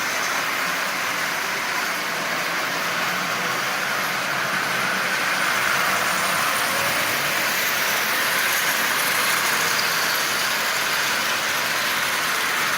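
A Marx 490 toy train locomotive, fitted with a headlight and traction tires, pulls a long string of cars with a steady, even whirring hum and no talk.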